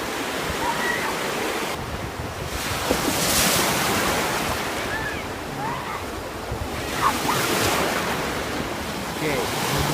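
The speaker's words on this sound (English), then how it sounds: "The waves are crashing. Look how big the waves are." Big ocean waves crash and roll onto a beach in a continuous loud surf roar with heavy wind buffeting the microphone, swelling and easing over time.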